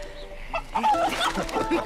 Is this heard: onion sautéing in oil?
no